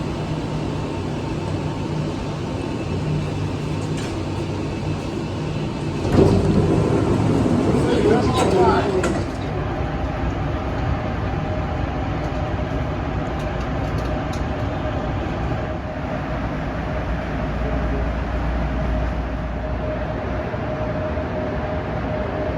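Steady low rumble of an automated airport people mover train at O'Hare gliding along, with a brief louder burst of rattling midway and a chime-like tone; a voice announces over it.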